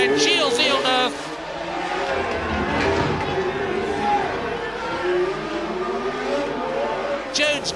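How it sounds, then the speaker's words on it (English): Formula 1 car engines racing through the Monaco street circuit, a loud rasping roar that rises and falls as cars pass, with a crowd cheering underneath and someone commentating over it. "I can hear them roaring over the engine noise"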